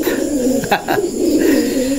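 A newly arrived pet bird in La Union gives soft, close cooing calls, two short notes rising over a steady background hum.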